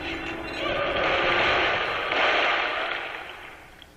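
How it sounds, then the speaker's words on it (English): A broad, roaring rumble swells and fades over a few seconds, like a distant blast or explosion, with no voices, from the video game Halo 3: ODST. "what were those explosions?"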